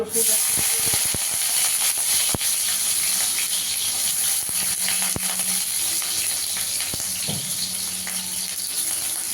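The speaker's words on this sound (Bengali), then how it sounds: "তেলেতে আমি রসুন দিয়ে দেবো, কয়েকটা রসুন দিয়েছি" Garlic sizzles and crackles steadily in hot oil, a close, continuous frying hiss with scattered pops throughout.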